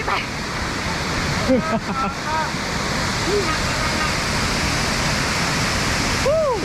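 A waterfall roars as a steady, loud broadband rush of falling water that fills the whole scene, with a few faint chirps or whistles rising briefly above it.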